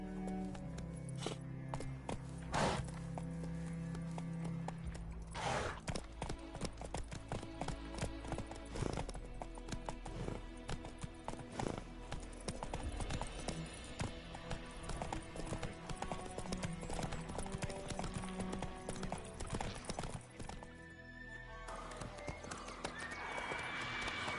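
Roach the horse galloping in the video game The Witcher 3, steady rhythmic clip-clop of hooves running continuously for a long stretch, with neighs and occasional voices over the pounding gait.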